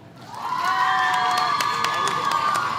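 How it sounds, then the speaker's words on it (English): A crowd of school supporters at a housing handover ceremony cheers loudly, a sustained mass of high shouts and whoops swelling quickly and holding, with some clapping mixed in. "It's clear Mr. Hall brought his own cheering squad from Hampton School."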